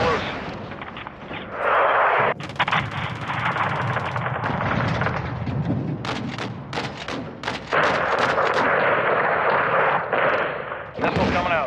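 A missile strike and gunfire in Call of Duty Modern Warfare 2 gameplay on PS5: heavy booming blasts and loud cracking shots in bursts over a dense battle rumble, with radio chatter mixed in.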